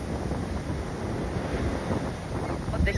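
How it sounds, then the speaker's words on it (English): Steady wash of sea waves and surf with wind buffeting the microphone, heard continuously through a yoga class in Sardinia; a constant, fairly loud broadband roar with no talking. "also the sounds you have here in the class, the waves."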